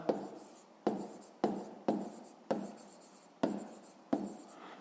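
Handwriting on paper, probably pen or pencil, in a series of about seven close scratchy strokes, each starting with a sharp attack and trailing off, evenly paced and with no voice.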